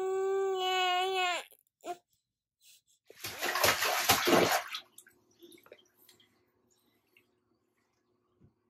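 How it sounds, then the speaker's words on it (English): An 11-month-old baby cries in a bathtub, a loud wavering wail that breaks off, followed by a burst of splashing water and faint drips in a quiet room. "He's literally crying because mommy's on the book."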